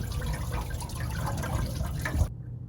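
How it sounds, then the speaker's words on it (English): Engine coolant drained from an RV pours in a steady, close gush into a large-capacity container, a continuous splashing rush that cuts off abruptly near the end. "Now coolant's really coming out, but I got my large capacity container here collecting all the coolant"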